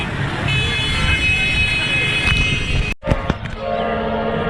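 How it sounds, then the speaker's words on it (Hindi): Street traffic outside a busy goat market, with a steady roar of vehicles and long tonal horn blasts, then an abrupt cut to quieter sound with more honking, under faint indistinct voices. "गाड़ियों का तो आवाज़ आप लोग सुन रहे हैं ना बाहर"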